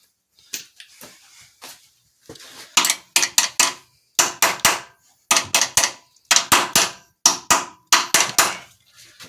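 A mechanic works on a Ford Windstar strut with ratchets, giving sharp repeated metallic clicks and clanks in quick bursts, close and loud, with short pauses between runs.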